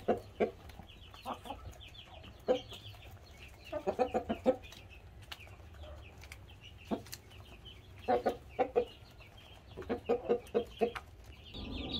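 Farmyard chickens cluck in repeated short bursts with a rooster calling to the hens, close and fairly quiet, in scattered clusters over a steady low background.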